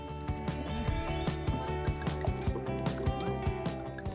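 Water poured into a container for a children's science demonstration, a steady liquid trickle with small splashes and bubbling running continuously over background music.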